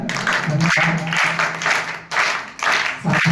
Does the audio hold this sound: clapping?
yes